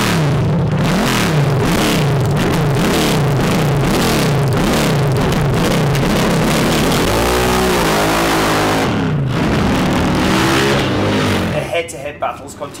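A Royal Enfield drag bike engine revs hard and close at a drag racing event, rising and falling through repeated loud throttle blips, then a long wailing climb before cutting off near the end.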